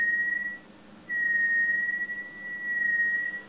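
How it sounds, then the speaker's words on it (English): A MMOUK OS1 synthesizer with its filter in self-resonance and the oscillators turned down gives a steady, pure whistling tone, heard alone in two sustained stretches with a short gap between them. "is nothing more than the resonance of the filter"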